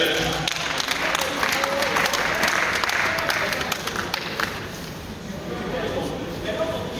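Applause from a crowd at a deliverance prayer service, steady and dense, with voices mixed in and a slight dip toward the end.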